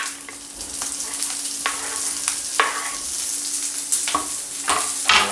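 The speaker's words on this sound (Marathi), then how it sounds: "हाय फ्लेमवर आपण याला फक्त 1 ते 2 मिनटाकरता फ्राय करून घेऊ" Soyabean manchurian with capsicum fries over a high flame, a loud, steady sizzle broken by sharp scraping stirs of the spatula every second or so, close up with no voices.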